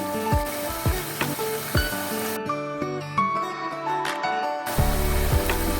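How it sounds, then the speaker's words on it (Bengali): Onion, garlic and green chilli sautéing in mustard oil in a pan, with a steady sizzle broken by sharp stirring scrapes and light clinks; there is a short break midway before the frying resumes. "আর একটু সর্ষের তেল দিয়েছিলাম, দিয়ে এবার কিছুক্ষণ কষাবো।"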